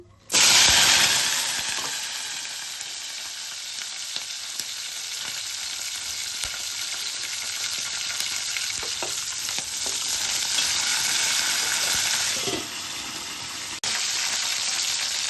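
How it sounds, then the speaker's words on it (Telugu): Green chillies hit hot oil with a loud initial splatter, then fry with a continuous crackling sizzle that fades slightly and surges again, near and without talk. "పచ్చిమిరపకాయలు ఇలా నూనెలో వేగిన తర్వాత"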